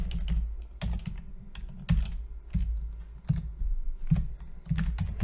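Close, fairly loud typing on a computer keyboard, with bursts of crisp key taps in an uneven rhythm, including a firmer press of the Enter key, heard alone with no talk.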